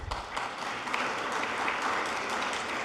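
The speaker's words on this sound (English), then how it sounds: "if we could give them a round of applause" Audience applause at a networking conference session, a continuous, moderately distant crowd clapping that holds steady for the whole stretch, no voices over it.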